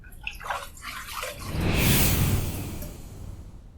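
Running water splashes and rinses a safety razor and face after a second shaving pass, swelling to a steady rushing stream midway before tapering, with no talking.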